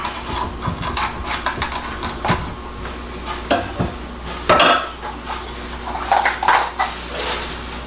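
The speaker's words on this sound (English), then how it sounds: "And now we're gonna go ahead and get the innards out." A spoon or knife scrapes the seeds and ribs out of a halved bell pepper for stuffed peppers, giving a string of close, irregular scraping clicks and knocks against a quiet kitchen backdrop.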